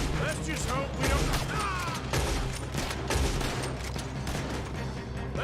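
Dense video-game gunfire in a shootout during a robbery getaway, a near-continuous fusillade of shots with crashes, loud and close, with brief voices over the din.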